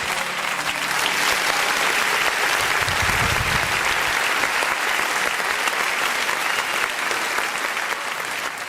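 A church congregation applauds in a dense, steady wash of clapping that holds strong for several seconds and eases slightly at the end.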